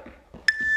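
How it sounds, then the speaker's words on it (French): A workout interval timer in a home bodyweight exercise session gives one short, clear electronic beep that rings on for a moment after a few soft breaths. "Jusqu'au bip, on n'arrête pas avant."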